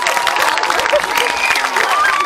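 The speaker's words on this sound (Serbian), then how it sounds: "Veliki aplauz za ovaj festival" An audience at the Kolubarsko Srce folklore festival in Mirosaljci applauds and cheers, with dense, steady clapping and crowd noise filling the space throughout.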